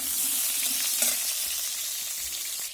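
Pointed gourd (potol) pieces frying in hot oil give a steady, dense sizzle with faint crackles, continuous and fairly close throughout.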